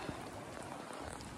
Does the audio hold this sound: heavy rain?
yes